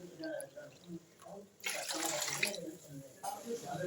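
Rice being washed in water for Andhra-style coconut rice, with soft sloshing and a burst of running water in the middle, fairly faint and close.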